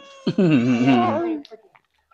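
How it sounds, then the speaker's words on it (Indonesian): A cat meows loudly for food in one long, drawn-out wavering cry up close, followed by a brief quiet moment with faint small noises. "Kucing, kucingnya ribut mintanya."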